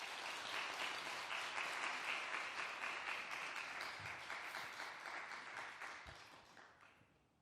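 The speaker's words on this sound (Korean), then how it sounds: "이 시간 나오실 때 따뜻한 격려의 박수 해주시면 감사하겠습니다" Church congregation applauding as a new high-school ministry pastor comes forward, a steady, dense roomful of clapping lasting several seconds before gradually thinning and fading out.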